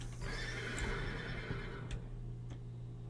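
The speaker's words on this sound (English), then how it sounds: "Is that a horse?" A horse whinnies in the video game Mold Exorcist over a steady low hum and background ambience, with a few faint ticking sounds scattered through.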